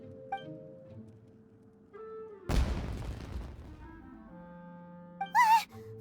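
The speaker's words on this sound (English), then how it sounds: "It sounded like fireworks." A sudden loud burst like a firework bang with a crackling, rumbling tail, set against quiet background music and game effects in Genshin Impact's Inazuma story quest.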